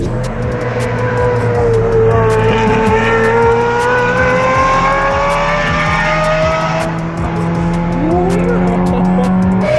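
A Lamborghini Murcielago drives hard on the Nurburgring track, its engine loud and steady with pitch climbing and falling through gear changes and tire squeal, and no talking over it.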